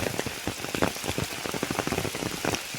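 Rain falls steadily on a cashew plantation path, a dense, close patter of drops striking surfaces with irregular louder splats throughout, no voices.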